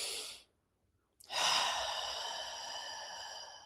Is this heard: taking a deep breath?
yes